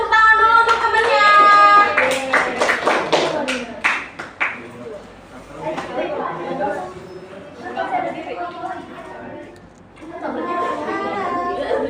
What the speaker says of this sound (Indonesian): kasih tepuk tangan dulu untuk temennya.